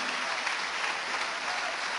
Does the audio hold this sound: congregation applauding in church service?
yes